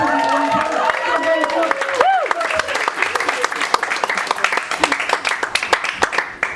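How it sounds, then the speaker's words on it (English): Audience applause for a poet at a poetry event, dense clapping mixed with cheering and a whistle-like rising tone early on, thinning toward scattered individual claps by the end. "Can you give a big round of applause for David?"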